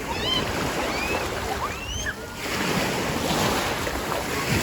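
Sea waves wash and rumble close by on a sandy beach under gusty wind, with faint high squeaks and a brief lull midway.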